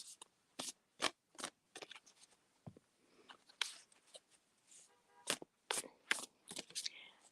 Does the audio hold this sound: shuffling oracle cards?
yes